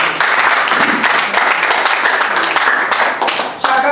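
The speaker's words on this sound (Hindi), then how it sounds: "आपका तालियों से स्वागत कीजिए।" A crowd applauds continuously at an NSUI student gathering in Prayagraj to welcome a speaker, steady dense clapping lasting throughout at close range with no clear voices on top.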